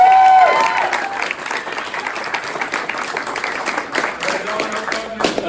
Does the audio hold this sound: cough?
no